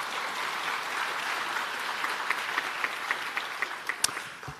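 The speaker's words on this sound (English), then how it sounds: "Let's give John also a round of applause for his good work." Moderate applause from a conference audience at a smart cities summit, steady clapping that thins out into a few sharper individual claps near the end.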